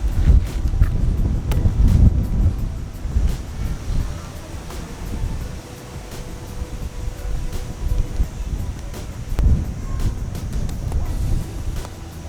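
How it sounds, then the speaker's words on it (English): Gusty wind buffets the microphone with low, uneven rumbling that rises and falls, loud and close throughout. "it's really windy, which is nice because it's hot right now"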